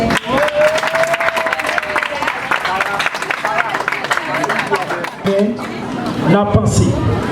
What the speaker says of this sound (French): M. Joseph, applaudissez chaudement s'il vous plaît